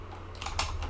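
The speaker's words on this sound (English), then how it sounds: "And you can type in anything" Keys tapped on a computer keyboard while a prompt is entered into ChatGPT, a short close burst of clicks lasting under a second with steady background hum, no voices.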